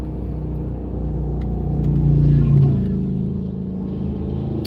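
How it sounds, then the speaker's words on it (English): A motorcycle rumbles nearby, its low engine growl swelling to a peak midway and then fading as it passes. "I heard that motorcycle coming"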